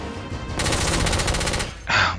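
A rapid, loud burst of automatic gunfire in the game The Order 1886, close and sustained for about a second, then a short pause and another heavy blast.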